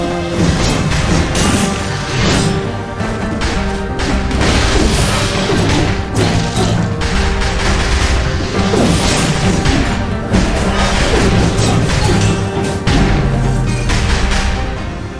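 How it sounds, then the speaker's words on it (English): Repeated bomb explosions from the video game Dead Cells boom and crash almost without pause over a game soundtrack, loud and dense for about fifteen seconds. "Okay, that was too many explosions."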